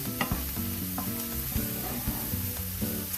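Beans and franks sear in a hot pan, making a steady, close sizzle with scraping stirs repeating throughout, and a faint tonal background underneath.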